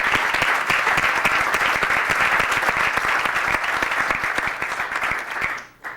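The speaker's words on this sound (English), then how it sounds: "People applaud, and he deserves it." Loud, sustained applause from a crowd at a press conference for Jack Nicklaus, dense clapping throughout that tapers off near the end.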